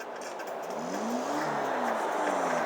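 A car engine at an auto rodeo event at Italfest 2013 revs hard and close, its pitch sweeping up and down in sustained rising and falling surges.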